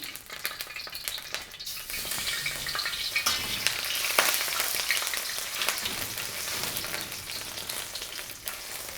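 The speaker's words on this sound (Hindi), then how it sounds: "चर्बी को हमने पहले थोड़ा सा गर्म कर लेना है" Lamb tail fat heating in about six tablespoons of oil in an open iron karahi for Shinwari dumba karahi: a steady, crackling sizzle with scattered pops continues throughout at moderate volume, and no one talks.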